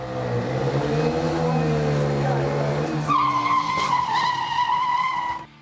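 Motorcycle tires skidding under hard double braking at a road safety week finale, a loud sustained screech that rises into a sharper squeal partway through, with engine noise underneath.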